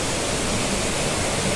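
Water pouring steadily at Bukal Waterfalls in Majayjay, Laguna, Philippines: a dense, constant broadband roar with no breaks or voices, close and fairly loud throughout.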